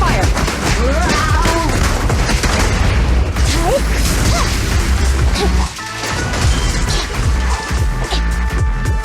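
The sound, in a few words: sustained gunfire in the video game Zenless Zone Zero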